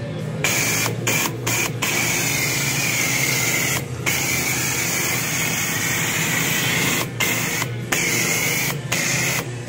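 A power soaper sprays soap into a car engine with a loud, continuous hissing rush, broken by several brief pauses as the trigger is released, close and steady.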